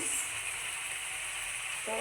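Steady frying sizzle of shrimp going into spiced, well-cooked masala in a pan, loud and close, continuing evenly with no talk.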